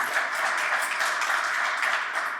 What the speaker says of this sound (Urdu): بھرپور تالیوں میں چاہتا ہوں کہ آپ ایک بار پھر ان کا استقبال کریں